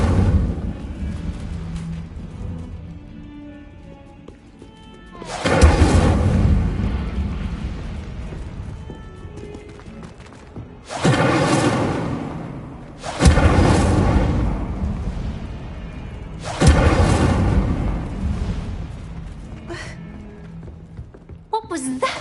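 Incendio fire spells bursting in Hogwarts Legacy: four loud, booming explosions with roaring, crackling tails, spaced several seconds apart, over a low rumbling game soundscape.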